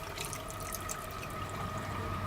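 A steady, close rush of water drains out as pressure bleeds off a hot and cold plumbing system, forming a constant hissing flow with no breaks and no voices.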